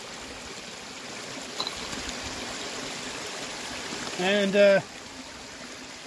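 A mountain creek flows with a steady, soft rushing wash of water at a gold prospecting site among quartz, slate and schist, heard as a constant low background while a voice briefly speaks near the end.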